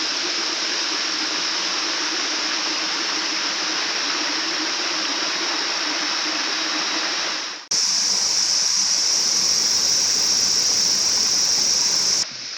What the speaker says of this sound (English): I'm just at the creek and this looks beautiful